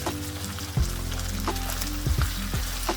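Beef frying in a Kerala-style pan with fennel seeds and curry leaves, a steady close sizzle with sharp crackles and stirring scrapes popping through, no voices.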